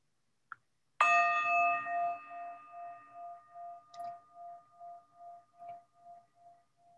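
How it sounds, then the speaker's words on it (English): A meditation bowl struck once like a gong, giving a sharp strike followed by a long, pulsing, slowly fading ring in a quiet room, with a small tap just before. "So you can go ahead and close your eyes and just listen to the gong."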